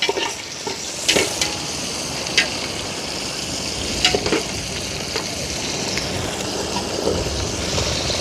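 Nagarai karuvadu dried fish frying in a pan, a loud, continuous close sizzle with occasional spatters and pops spread through.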